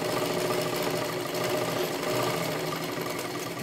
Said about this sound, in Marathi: खालीपर्यंत आपल्याला शिलाई करून घ्यायची आहे.